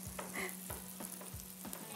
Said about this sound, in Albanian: Siç jeni duke skuq selçishet, mund të hidhni domatet apo avokadot bëhet një si form kremi